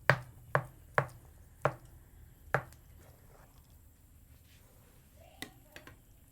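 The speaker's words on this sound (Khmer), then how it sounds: "ខ្ញុំចាប់ផ្ដើមហាន់តាហ៊ូយើងម្ដងដុំល្មម" Knife chopping a large block of tofu for Chinese dumpling filling: five sharp, close thuds on a cutting board at roughly half-second intervals, then quieter handling taps, over faint background noise.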